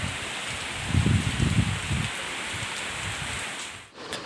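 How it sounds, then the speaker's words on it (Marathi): Steady rain falls outdoors during a home Nag Panchami festival day. The wash of drops is fairly soft and continuous, with a few duller patters near the start and no voices. "बघा पाऊस आहे"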